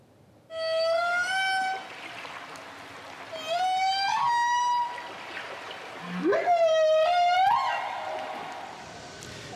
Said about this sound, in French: Ça, c'est un chant de baleine boréale